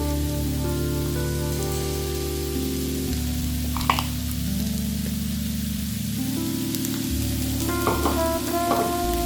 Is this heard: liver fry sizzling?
yes